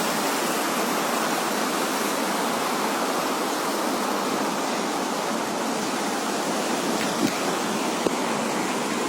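Heavy rainwater pours and rushes through a flooded house in Jaipur, a steady, dense wash of noise that holds constant throughout with no speech.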